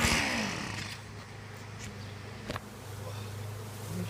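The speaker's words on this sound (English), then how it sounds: "As you can see, there's a few bees." Bees buzzing around beehives just after a honey harvest, a continuous close insect hum with individual bees passing near, over faint background noise.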